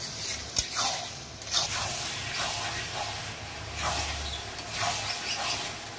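Dal omelette curry masala fries in oil in a pan, a steady close sizzle and hiss with small bursts of spattering, no voices.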